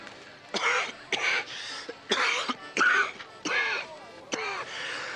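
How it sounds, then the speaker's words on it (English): A series of harsh, hacking coughs, about seven bursts in uneven succession, fairly close and with no talk. "It's just a cough I've had for several weeks."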